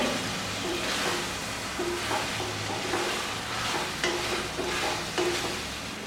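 A spoon scrapes and stirs through a sizzling pot of mutton for Ambur biryani in repeated strokes, close up, with a steady frying crackle underneath.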